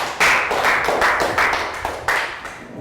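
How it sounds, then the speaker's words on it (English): A small primary classroom gives a student a round of applause during a Year 3 maths lesson, with several bursts of clapping about half a second apart, fairly close and loud, and no talking over them. "Round of applause for Prel."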